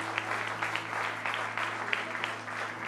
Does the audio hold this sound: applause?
yes